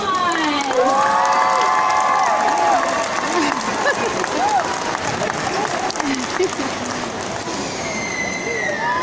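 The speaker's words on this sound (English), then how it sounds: "Great big round of applause." Audience at a sea lion show clapping and cheering, dense and loud throughout, with children's shouts and whistle-like calls rising above the crowd noise.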